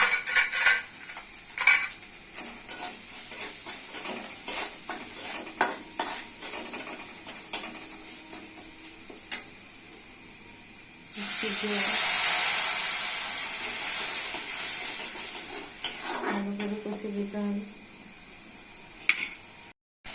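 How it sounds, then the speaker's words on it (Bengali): A spatula scrapes and clinks in a pan as spices are stir-fried with ginger-garlic paste, turmeric, salt, chilli powder and cumin powder for a lentil and egg curry; a loud hissing sizzle swells midway, then fades back to scraping. "মশলা কষা হয়ে গেছে"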